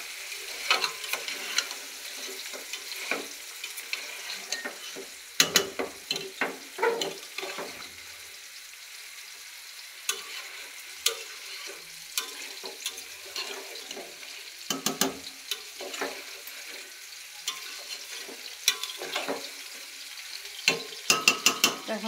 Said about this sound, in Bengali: আর এদিকে দেখুন মাংসগুলো যখন ভালো করে নেড়ে চেড়ে দেবো।